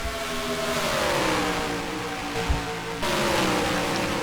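Race car engines drone continuously in a stock car racing video game at Charlotte, several cars wailing at high revs with pitch sliding as they pass.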